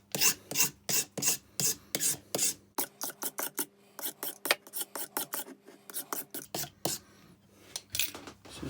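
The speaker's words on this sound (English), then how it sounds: "Need a bit sanded, and I'm going to need to take some off at the rear." Hand sanding on a Gransfors Bruks Wildlife Hatchet, close rhythmic rasping strokes in quick bursts with short pauses, loud and dry, with no one talking.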